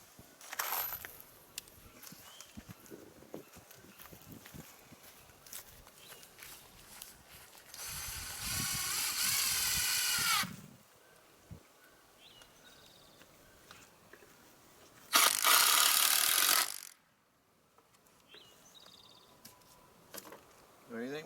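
A screw gets driven into a garden fence on a homestead, with two loud bursts of a power driver whirring, each lasting a few seconds, between quieter handling noises and faint outdoor background.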